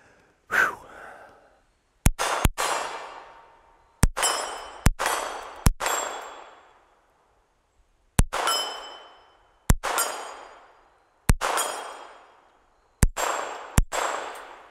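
A Smith & Wesson Model 41 .22 pistol fires at steel targets. About a dozen sharp shots come in pairs and singles, each followed by a bright ringing clang that fades slowly. No one speaks.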